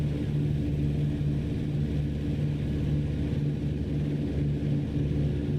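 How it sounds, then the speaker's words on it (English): A tail-dragger propeller airplane drones steadily in flight in Microsoft Flight Simulator 2024, a constant low engine hum with a steady tonal buzz, even and unbroken throughout. "It flies pretty nice, this airplane."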